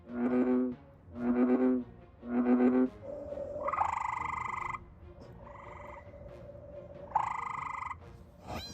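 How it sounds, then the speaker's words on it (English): Recorded frog calls played back outdoors at night to lure a creature: three loud, deep pulsing croaks in steady rhythm, then higher, longer trilling calls over a sustained tone. "using the aid of frog sounds to try to lure him in"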